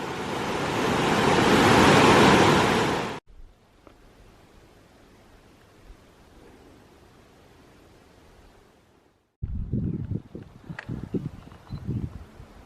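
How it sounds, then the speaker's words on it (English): Russell Creek in northern Oregon running strong at a trail crossing gives a loud, dense broadband rush for about three seconds, followed by a quieter wash and then closer splashing and uneven thumps. "This is Russell Creek, which is flowing really well."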